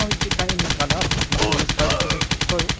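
Rapid automatic gunfire in the video game Cannon Fodder 3, a loud continuous stream of evenly spaced shots with a voice speaking faintly underneath.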